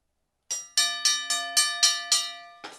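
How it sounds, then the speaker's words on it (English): A single bell is struck about seven times in quick succession, each ring clear and close with a brief decay, with a short pause before the last weaker strike. "Oh yeah, ring the bell."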